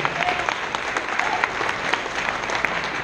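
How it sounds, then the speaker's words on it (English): An audience at a school jazz choir concert claps in a dense, continuous round of applause, loud and sustained throughout with no voices over it. "That big round of applause."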